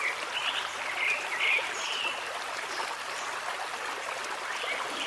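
A swollen stream, high after several days of heavy rain, flows in a steady rushing wash among bamboo, with occasional higher trickles and chirping calls faintly above the water.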